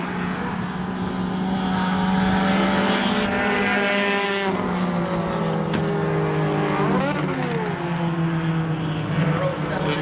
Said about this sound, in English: David Cook drives around the 84 of Doug DeGroe and into the lead.